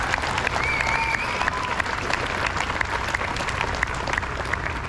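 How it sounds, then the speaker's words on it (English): An audience at a 2024 middle school promotion ceremony gives the graduating class a steady, loud round of applause, a continuous wash of many hands clapping with a faint tone running underneath. "Let's give our class of 2024 another round of applause for all they have accomplished"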